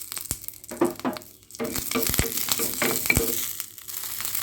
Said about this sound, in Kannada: ಒಂದು ಸ್ವಲ್ಪ ಕೊತ್ತಂಬರಿ ಹಾಕ್ಕೊಂಡ್ಬಿಟ್ಟು ಫ್ರೈ ಮಾಡೋಣಂತ